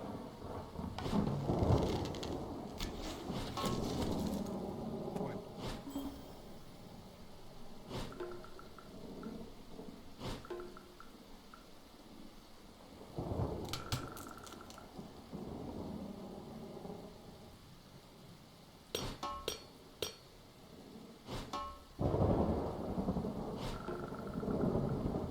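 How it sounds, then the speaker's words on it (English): A thunderstorm in the survival game Dead in Vinland brings steady rain and rolling thunder, with loud rumbling bursts at intervals over a continuous downpour. "Man, this was a rough day to get this storm."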